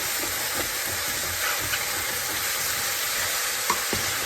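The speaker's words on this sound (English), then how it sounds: "scrape up the bottom of that pan. Look at those beautiful mushrooms" Mushrooms frying in a pan for beef stroganoff while a utensil scrapes the bottom, a loud continuous sizzle and hiss with soft intermittent scraping strokes throughout.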